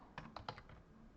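Keys clatter on a computer keyboard in a short burst of several quick, close taps, then trail off into quiet room tone.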